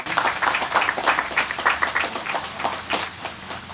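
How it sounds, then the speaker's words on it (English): A crowd claps in a brisk round of applause at a park naming ceremony, the steady clapping continuous and fairly loud throughout. "Can we get another round of applause?"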